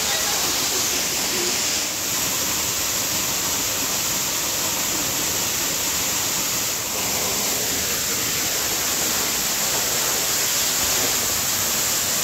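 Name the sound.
waterfall pouring down near cave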